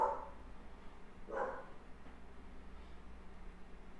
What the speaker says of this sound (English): Yeah, the dog's barking out there.